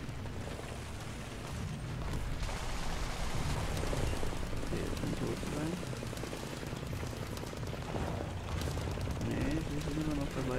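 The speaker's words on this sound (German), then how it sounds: "können wir ja durch die Gebäude schießen." Tank gunfire in the War Thunder video game, with booms and rattling shots in a dense, continuous battle din while someone talks over it.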